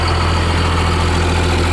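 A 2001 second-generation Cummins diesel pickup with a stock turbo and only bolt-on parts idles close by, giving a steady, deep, loud rumble with no talking.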